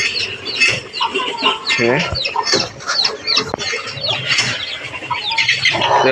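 Native hen with her young chicks clucking and peeping in a home poultry setting, with a few clear calls and chick cheeps mixed among steady background voices and noise.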